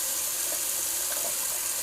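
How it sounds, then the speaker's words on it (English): Cold water runs steadily from a bathroom tap, rinsing alum off after a wet shave, as a constant close hiss with no pauses. "just going to put some cold water on it"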